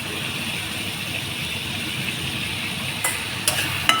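Spoon stirring potato masala with turmeric, chilli powder and salt in a pan, a steady close scraping and sizzling hiss with a few sharp metallic taps near the end, no speech.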